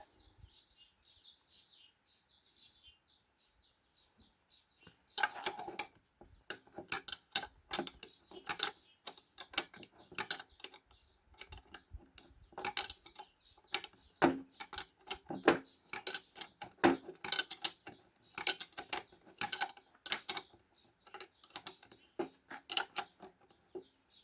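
Speedometer drive gear bolt being unscrewed on a Peugeot 404 with a four-speed gearbox, a quiet lead-in followed by dense, irregular metallic clicks and ticks in close, rapid bursts.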